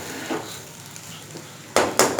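Egg fried rice being tossed with vegetables in a pan, a few soft scrapes followed by two sharp, loud clanks of a utensil against the pan near the end.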